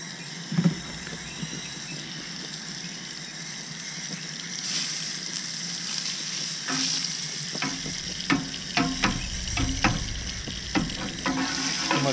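Butter melting and sizzling in a hot cast iron pan for blackened redfish, a steady fry hiss that swells with sharp crackles and pops partway through, close and alone.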